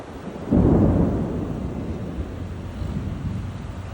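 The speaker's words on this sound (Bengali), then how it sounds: "এখন আকাশে ডাক দিচ্ছে, সেই বৃষ্টি আসতেছে মাশাল্লাহ" A thunderclap breaks out over Kuala Lumpur as rain approaches, then rolls into a long, low, fading rumble mixed with wind buffeting and steady outdoor noise.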